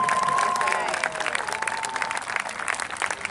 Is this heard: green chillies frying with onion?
no